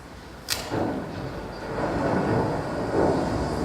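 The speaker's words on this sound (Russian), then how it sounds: "Уже гремит гроза." A sharp crack gives way to deep, rolling thunder that rumbles on and swells again toward the end.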